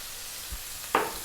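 Sea bass fillet frying over high heat with oregano and salt, a steady hiss under two short knocks of a utensil stirring the pan, the second scrape sharper and louder, close and with no voices.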